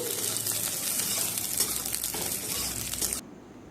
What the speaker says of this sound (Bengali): ঘি দিয়ে কাজু বাদামগুলোকে ভেজে নিলাম